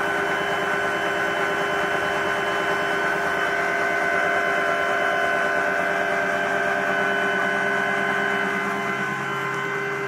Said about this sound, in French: vous avez la brosse qui se met à tourner et à s'auto-nettoyer